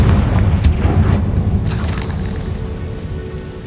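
A Confringo spell explodes in the video game Hogwarts Legacy with a heavy boom and crackling burst that fades into a rumbling tail.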